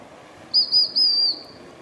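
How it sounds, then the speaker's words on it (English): A sharp, high dog-recall whistle is blown in three quick bursts, the last held longer, loud and close over a quiet background. "When you blow the whistle, nice and loud."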